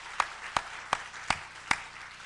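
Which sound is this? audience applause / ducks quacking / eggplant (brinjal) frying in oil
audience applause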